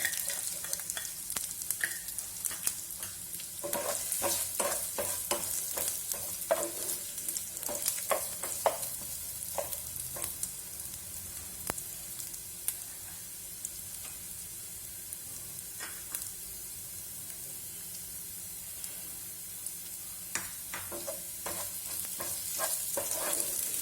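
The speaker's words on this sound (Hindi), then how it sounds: "फास्ट गैस पर स्टर फ्राई करेंगे" Ginger garlic paste and carrot stir-fried on a high flame for Chinese khichdi, giving a steady, loud sizzle with frequent sharp crackles and spatula stirring scrapes throughout, no voices.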